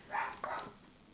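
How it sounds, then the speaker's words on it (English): A dog barking nearby, two quick barks in a row, fairly close, with no talking. "Blaze, stop barking, man"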